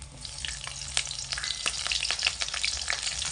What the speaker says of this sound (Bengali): এখানে প্রথমে তেলের মধ্যে দিয়ে দেব 1 চামচ মতো গোটা কালো জিরে, দিয়ে দিচ্ছি এখানে 3টে চেরা কাঁচা লঙ্কা